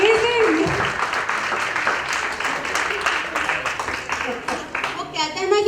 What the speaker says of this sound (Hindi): प्लीज तालियां तो बजती रहनी चाहिए